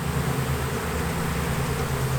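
Dense, continuous drone of a honey bee swarm, a steady close buzz with no breaks and no voices.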